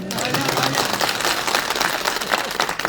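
Crowd clapping at an outdoor political rally in a fruit market in Sopore, a dense, steady patter of many hands held at an even level for a few seconds with no clear voice over it.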